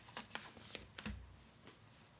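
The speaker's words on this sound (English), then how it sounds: "So one more shuffle" A deck of tarot cards is shuffled up close, with a few quiet soft riffles and taps over about two seconds.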